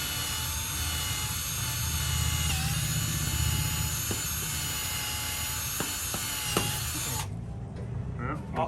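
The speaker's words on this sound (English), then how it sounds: "drilling a hole in my boat." A power drill bores a hole through the hull of a Lagoon 400 catamaran with a steady, close whine and grinding drone. It runs for about seven seconds, then cuts out, leaving a quieter background.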